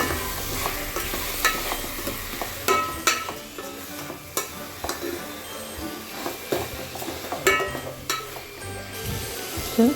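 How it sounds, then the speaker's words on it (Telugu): Chicken pieces for biryani tossed into a hot pan and mixed, giving a steady frying sizzle with irregular scraping and clinking strokes of a spoon against the metal, close and fairly loud. "ఇప్పుడు ఈ చికెన్ ఇందులో వేసేస్తాం. బాగా కలిపేయండి."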